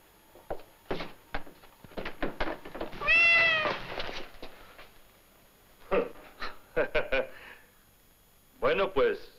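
A cat behind a door meows clearly around the middle, a drawn-out cry amid nearby talk and a few knocks and movement sounds.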